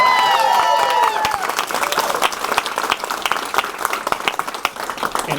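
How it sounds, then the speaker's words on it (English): A crowd gives Senator Alvarado a round of applause at a rent stabilization gathering in Washington, opening with cheers and whoops over dense clapping that thins to scattered, distinct claps. "Another big round of applause for Senator Alvarado."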